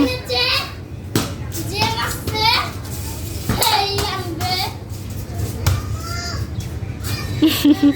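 Young children play indoors, shouting and squealing loudly in bursts, their high voices close and overlapping, with an adult voice and a crow cawing outside in the background.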